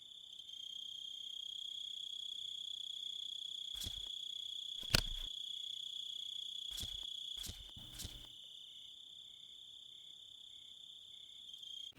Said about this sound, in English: The background noises are that of crickets in the distance.